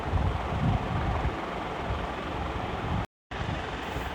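Wind rushes past a car on a road trip from Pune to Chiplun through green hills, making a constant loud buffeting roar that breaks off in a brief dropout.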